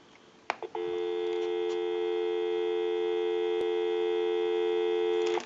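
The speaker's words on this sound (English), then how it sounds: "We'll go ahead and give you some dial tone." A steady dial tone drones from the handset of an AT&T Signature Princess telephone under repair, after a couple of brief clicks at the start, holding loud and unbroken for about five seconds.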